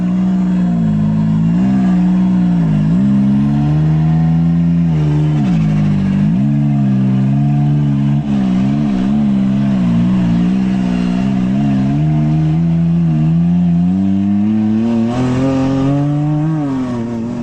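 A Can-Am off-road vehicle crawls over rocks on a desert trail, its engine droning loud and close throughout, the pitch rising and falling with repeated revs as it climbs, with no talking.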